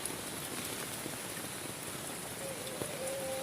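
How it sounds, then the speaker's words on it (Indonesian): Heavy rain drums on a tent during a riverside camping night, a steady close wash of patter with no break and no talking. "Ini hujan masih lebat nih teman-teman nih"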